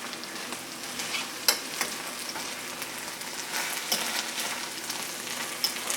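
Honey fungus mushrooms fry in a pan while being stirred, a bright crackling sizzle with occasional sharp pops and scraping clicks, close and alone.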